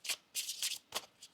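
Tarot cards being shuffled by hand in quick bursts, four separate riffling rustles with short gaps between them, close and fairly quiet with no talking.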